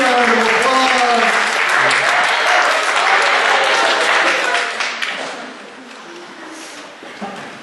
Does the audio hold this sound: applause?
yes